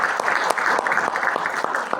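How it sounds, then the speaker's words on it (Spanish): Dense applause from an audience, steady claps filling the whole moment without a break. "con el maestro Gonzalo Pedro Sánchez Eguren, a quien les pido un fuerte aplauso, por favor."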